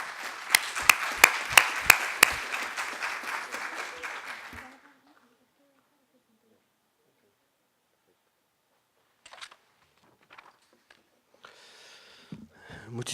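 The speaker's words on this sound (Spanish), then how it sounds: "Recibimos con un fuerte aplauso" Audience applause welcoming a speaker at a conference inauguration, a dense burst of clapping with distinct sharp claps that stops abruptly after about five seconds, followed by near silence and faint shuffling.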